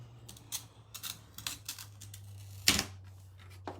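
Scissors snip through holly leaves in a string of sharp, separate cuts spread across the moment, close and fairly quiet, over a steady low hum, with one louder crisp snip near the end.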